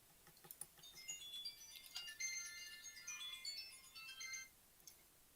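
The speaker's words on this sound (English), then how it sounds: "It's a hell of a ringtone." A bright electronic ringtone plays a quick melodic pattern of tones for several seconds, fairly quiet, then stops.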